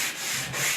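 Hand sanding an antique wooden dresser with 150-grit sandpaper after paint stripping: a short, close, raspy rub with two quick back-and-forth strokes.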